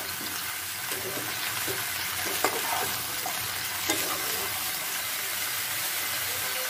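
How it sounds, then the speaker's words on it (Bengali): Mixed vegetables for a Malabar spinach curry frying in a pan give a steady, close sizzle, broken by a few light scraping strokes from stirring, with no talking. "একটু সবজিগুলো ভাজা ভাজা হতে দেবো।"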